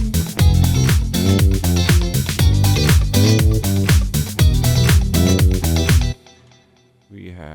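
The Vengeance Avenger synth layers a lead electric guitar, a bass guitar and a muted guitar over drums, playing a loud, dense rhythmic pattern for about six seconds before cutting off abruptly.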